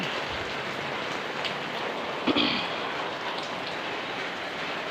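Heavy rain pouring steadily during the monsoon, a dense, even hiss of falling water with no pauses, with one brief knock partway through.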